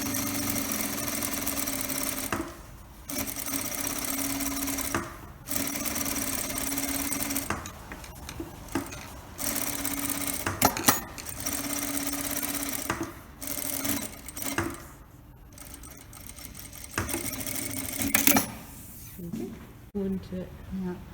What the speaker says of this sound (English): And then just top stitch all the way up.